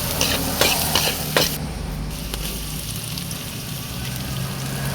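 Garlic sizzles in a hot pan as it is sautéed with stirring, a crackling frying hiss with a few sharp clatters of the utensil early on, close and steady.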